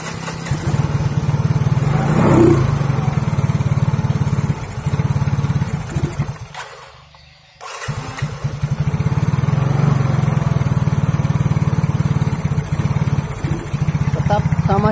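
Fuel-injected Yamaha X-Ride motorcycle engine started up and running steadily, a continuous mid-pitched drone with a brief drop partway through before it resumes, close by; no talk over it.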